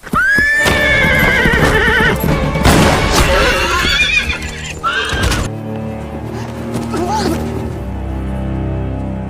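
A horse whinnies loudly up close, followed by clattering hooves and rough scuffling, then a quieter mechanical rumble as the commotion fades.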